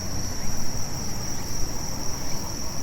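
Insects chirp in a steady, dense chorus of cicadas and crickets beside a road near waterfalls in Hiratsuka, Kanagawa, Japan, with a high continuous buzzing drone and no voices.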